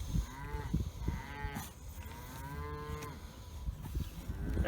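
A sick, bloated calf lows repeatedly, several drawn-out moos close by against farm background noise, with no talking.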